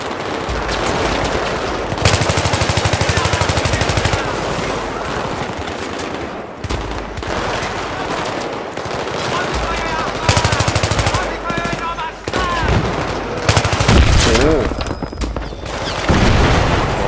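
Gunfire in Battlefield 3 combat: loud, sustained bursts of automatic rifle fire and booming shots, dense and close, broken by brief pauses, with voices talking underneath.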